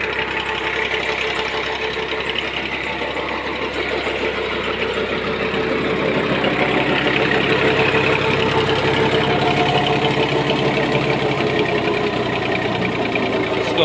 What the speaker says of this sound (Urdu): یہ جو ہے اس پیٹر انجن پہ یہ چلتا تھا۔